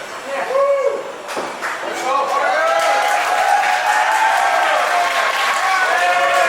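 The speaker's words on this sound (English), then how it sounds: "Great crowd support here for Parker Lee here at District Atlanta." A pro wrestling crowd at District Atlanta cheers and applauds for Parker Lee after a match, with steady clapping and shouts filling the room and an announcer talking over the noise.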